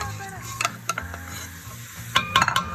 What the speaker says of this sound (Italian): Iniziamo a buttare il soffritto nella pentola, così piano piano inizia a cuocere e a soffriggere per l'appunto.